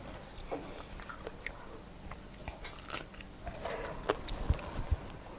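Crisp bites and chewing of a chilled, crunchy red peach dipped in chili salt, with close, irregular crunches and wet chewing throughout, no talk.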